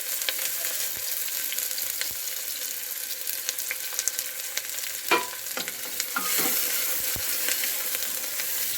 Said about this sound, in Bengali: পেঁয়াজগুলো তেলের মধ্যে হালকা নেড়ে চেড়ে লাল করে নেব।